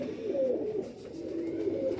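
Lakha breed pigeons coo in a low, steady murmur, a pair of soft rolling calls standing out near and alone against quiet background.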